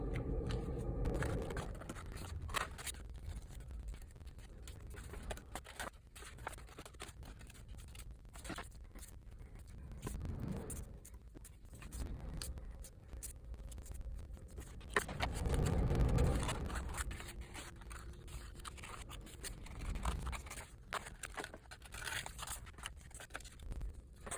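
Paper pieces for a folded pelvic floor model being cut out with scissors or a craft knife: faint, intermittent snipping and scraping with a few louder bursts, no talking.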